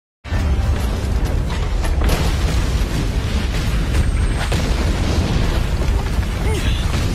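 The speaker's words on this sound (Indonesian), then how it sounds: "Efek ledakan yang keluar dari lonceng ungu dan diarahkan ke bawah lantai merembet hampir ke seluruh lorong yang ada" A purple bell in an animation gives off a loud, sustained roaring blast that tears along a corridor, with dense rumbling and crackling continuing throughout.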